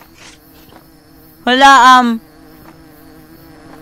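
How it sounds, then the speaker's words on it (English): Dense swarm of bees droning loudly for about a second amid quieter ambient sound, with a person exclaiming nearby. "Why are there so many damn bees?"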